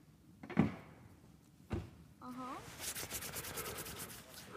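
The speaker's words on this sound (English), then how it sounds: "The door gets stuck, yes. I think the listeners heard that." Sticking door forced open: two dull thumps as it catches, then a short creak and a long, rough grinding scrape as it drags open, fairly close.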